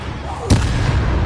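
A Confringo spell goes off in the video game Hogwarts Legacy as one sudden, loud blast with a sharp attack, followed by a rumbling, noisy tail against a busy background of game sound.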